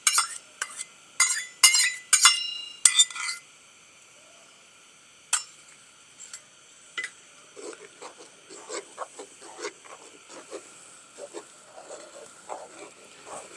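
A spoon stirring cream into a strawberry rice dessert in a pot, with a cluster of sharp metallic clinks at first, then softer, irregular scraping and wet mixing sounds, close and fairly quiet.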